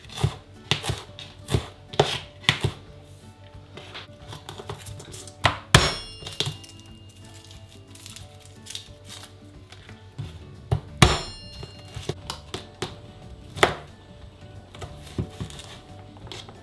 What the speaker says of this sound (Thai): จะเอาแต่ก้านจากนั้นก็หั่นค่ะ